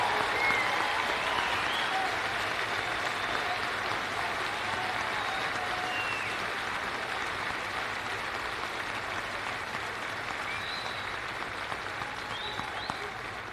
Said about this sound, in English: Please join me in giving these amazing men and women a round of applause